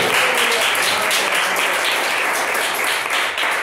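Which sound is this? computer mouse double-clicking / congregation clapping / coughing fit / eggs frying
congregation clapping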